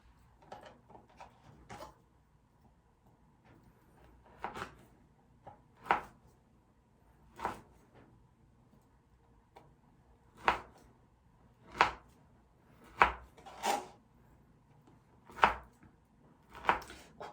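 A knife slices through a baked cookie pie studded with chocolate chips and walnuts, giving a series of crisp, crunchy cutting strokes, close and fairly loud, spaced at irregular intervals with quiet pauses between.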